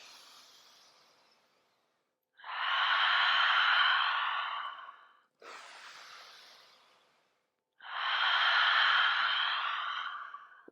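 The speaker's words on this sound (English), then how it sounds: "Exhale through your mouth. Yep, inhale. Exhale. Nice long breaths, few more." Long, deep breaths in a guided breathing exercise, each exhale pushed audibly out through the mouth. Two loud, drawn-out breathy exhales alternate with softer inhales in a slow, steady rhythm, close and alone with no voices.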